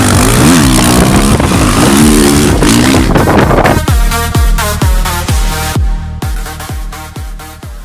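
A motocross motorcycle engine revving hard and loud up close, first a sustained roaring rev, then a run of sharp rhythmic blips with decays between them.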